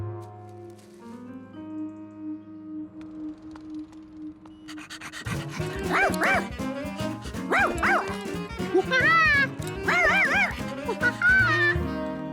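Charkie, the cartoon dog in Curious George, yips and pants in a quick excited run of short barks after a quiet, hummed musical opening, the vocal sounds clear and close.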